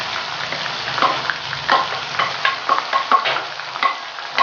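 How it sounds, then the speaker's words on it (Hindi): Chicken sizzles steadily in a hot pan for a tinda chicken dish, with repeated scraping and clattering stirring strokes cutting through the continuous frying hiss, close and fairly loud. "चिकन को हम तब तक फ्राई करेंगे जब तक इसका कलर चेंज ना हो जाए"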